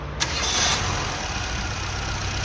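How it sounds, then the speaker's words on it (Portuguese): A car fitted with a new coil, new plug wires and new spark plugs cranks briefly, catches, and settles into a smooth, steady idle, loud and close. "Agora a gente vai funcionar o carro, vamos ver como é que ele vai funcionar."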